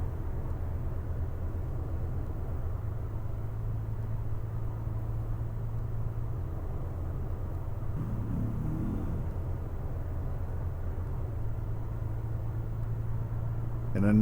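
A coach bus in the Fernbus Simulator game rounds a bend on an empty road between Regensburg and Augsburg, its engine holding a steady low drone with a brief rise midway, close and even throughout.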